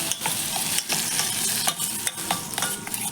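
Spice paste of Kashmiri red chilli is stirred with hot mustard oil, a dense close sizzle broken by repeated rhythmic scraping strokes of a spoon, with no speech.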